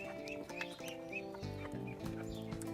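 Chickens on a small farm cluck close by in short, repeated bursts, while higher peeps and faint chirps sound in the background and no one speaks.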